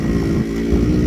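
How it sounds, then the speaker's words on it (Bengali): A motorcycle rides through an African forest, its engine a brief, close, steady droning rumble with no voices. "আমরাই প্রথম বাইক দিয়ে আফ্রিকার জঙ্গল ভ্রমণ করতেছি।"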